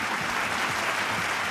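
A short burst of clapping applause from a sound-effect keypad, dense and steady throughout, like a canned crowd clapping effect.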